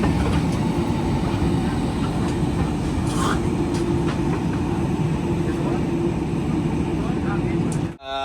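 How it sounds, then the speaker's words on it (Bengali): Netaji Express, the Howrah–Kalka train, running steadily after leaving Pandit Deen Dayal Upadhyaya Junction, with a continuous loud rumble and faint wheel clatter from inside the coach, ending abruptly. "নেতাজি এক্সপ্রেস ছাড়লো পণ্ডিত দীনদয়াল উপাধ্যায় জাংশন থেকে।"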